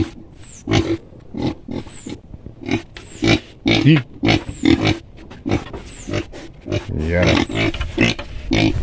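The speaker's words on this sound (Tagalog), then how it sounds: "Yung native na baboy." Native pig grunting in a pigpen: loud, close, rough grunts and snorts come in irregular bursts, with a brief spoken word among them.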